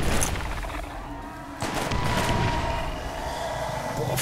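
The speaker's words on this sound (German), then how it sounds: "Ich werfe jetzt mal eine Granate darunter." A grenade blast and bursts of gunfire in the shooter game Borderlands, with a loud boom partway through followed by continuous rattling fire and combat noise.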